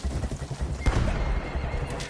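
Loud, close horse whinny amid clip-clop hoofbeats and distant battle noise in the Battlefield 1 video game, the neigh rising sharply near the middle of a brief stretch.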